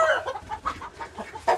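Backyard coop chickens cluck and squawk in quick, agitated bursts as one chases another, a close run of short calls with a sharper squawk at the end.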